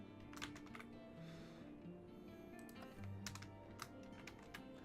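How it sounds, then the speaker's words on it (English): Quick clicking keystrokes on a computer keyboard come in irregular bursts and short runs, close and fairly quiet, with no talking. "I might just start typing, like, Destiny or something like that."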